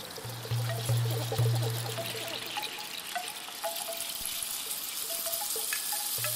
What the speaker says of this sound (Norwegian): Her renner ikke vannet inn, det renner ut av sluket.